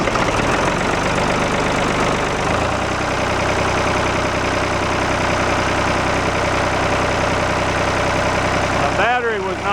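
A Ford 3910 tractor engine with a weak battery runs with a loud, steady diesel knocking idle close by, its tone shifting after a couple of seconds, and a voice speaks briefly near the end.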